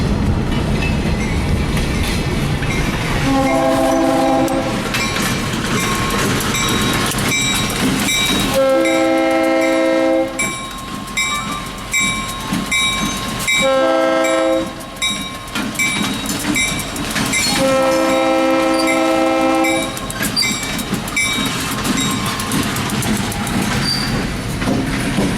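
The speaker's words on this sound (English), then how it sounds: "The 1547 still has its original RS3L horn" Locomotive 1547 on the St. Marys Railroad sounds its original RS3L horn in four chord blasts, the middle ones longer, over rolling freight-train rumble and clatter.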